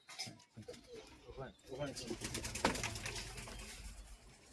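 Short-beaked Giribaz pigeons of an old Murshidabad line cooing inside a loft, a steady soft murmur of calls running under people talking nearby.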